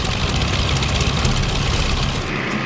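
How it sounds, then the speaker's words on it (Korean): The P-47 Thunderbolt's Pratt & Whitney R-2800 18-cylinder radial engine runs with a loud, dense, continuous roar and rumble, steady throughout with no voices. "P-47은 2000마력을 뿜어내는 18기통 엔진 프렛 앤 휘트니 R2800을 탑재하고 있었는데"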